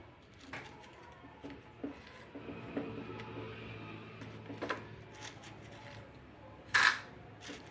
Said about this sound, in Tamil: கடுகு நல்லா பொரியட்டுன்னு